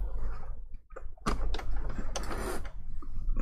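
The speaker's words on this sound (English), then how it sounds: "place this under the footer and start sewing basically" A sewing machine runs a straight stitch through soft fabric for an appliqué fursuit hand paw, in short mechanical bursts of whirring and clicking separated by brief pauses. The sound is close and moderately loud.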